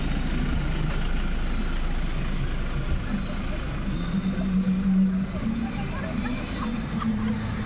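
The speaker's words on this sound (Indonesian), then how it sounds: "Banyak kereta berhenti." Low, steady engine rumble of cars idling close by in traffic in thick fog on a mountain road near Ranau, Borneo, a constant drone with occasional shifts in pitch and a voice faintly underneath.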